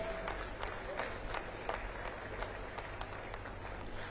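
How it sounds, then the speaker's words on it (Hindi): Continuous clapping from a crowd at a government event in Jagdalpur honouring police and force members, thick and unbroken across the whole stretch, close and at an even level. "तालियां आपकी बजती रहनी चाहिए,"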